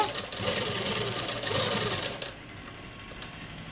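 Sewing machine stitching canvas for a dress, a close steady whirring run of rapid stitches that cuts off partway, leaving faint clicks and room noise.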